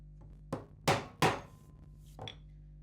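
Three sharp wooden knocks in quick succession as a mallet strikes a chisel cutting a housing dado joint, followed by a lighter tap.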